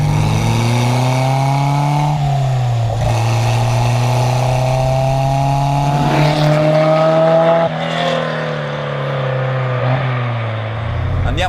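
Alpine Renault A110 1600 SC engine while driving, a loud, close, buzzy four-cylinder note climbing through the revs with several distinct gear changes and drops in pitch, with some talk over it.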